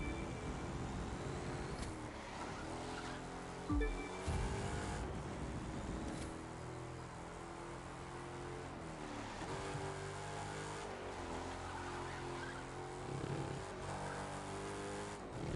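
A Dodge Durango SRT8 SUV engine in The Crew 2, droning steadily at high revs while driving fast, with brief tire squeals and skids, loud and continuous.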